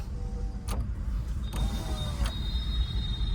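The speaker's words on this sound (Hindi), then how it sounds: "सारे शीशे खोल दो" Car power windows whir down one after another inside a slowly rolling car, several short motor whines with clicks at their ends over a low steady engine rumble.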